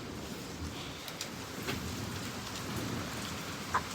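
Heavy rain pours steadily through a thunderstorm, a dense continuous hiss of drops on surfaces with a few brief louder spatters and no clear thunder crack.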